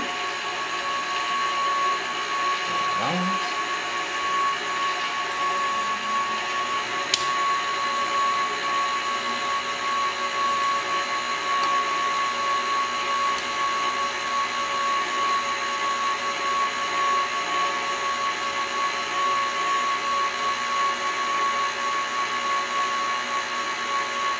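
A KitchenAid stand mixer with spiralizer attachment runs steadily while spiralizing a cucumber with a thin cutting blade, a constant loud motor whine and hum throughout, with a couple of faint clicks and no talking.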